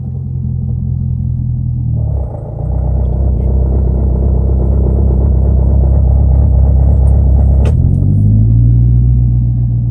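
A Corvette engine idling loudly nearby, then a deeper strained rumble when it is put in gear with the brake held, as though fighting to move, before the idle note rises again near the end.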